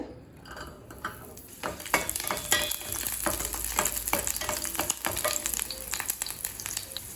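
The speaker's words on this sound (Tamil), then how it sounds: "பத்து காஞ்ச மிளகாய் ஸ்லோலி வச்சு மிளகா கலர் மாறாத மாதிரி வறுத்துக்கோங்க" Eight garlic cloves and ten dried red chillies fry slowly in oil in a kadai, a close, steady sizzle with stirring scrapes and clinks against the pan, no voices.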